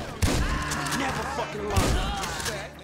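Gunfire from the video game GTA V crackles in sharp bursts among booming shots and game ambience, with someone talking excitedly over it.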